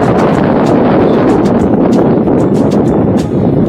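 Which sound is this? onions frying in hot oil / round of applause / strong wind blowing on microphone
strong wind blowing on microphone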